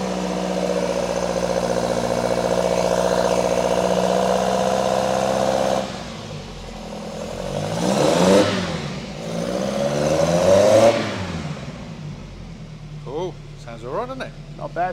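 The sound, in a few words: Lancia Fulvia car engine running and revving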